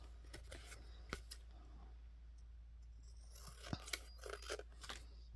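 Scissors trim paper for a file folder journal project, giving a few close, quiet snips and crunchy cuts spread unevenly over a low steady background hum, with no voices.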